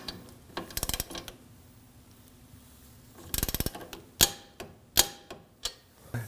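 Torque wrench ratcheting on a sway bar link nut of a 2013-2015 Subaru XV Crosstrek, with two quick bursts of close metallic ratchet clicks followed by several louder sharp clicks and knocks, and no talking.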